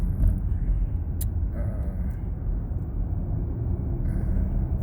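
A heavy truck slowing in traffic, a steady low rumble of road vehicles with a brief air-brake hiss, heard from inside a nearby car with no talk.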